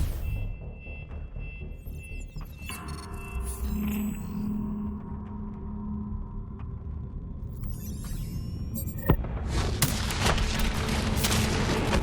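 A detonation in Call of Duty: Black Ops 3, a sharp blast followed by a loud, sustained roaring rumble of debris and combat noise that swells and stays heavy.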